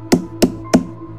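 Three sharp knocks on a wall, evenly spaced and loud, used as a horror story sound effect, the third slightly softer than the first two.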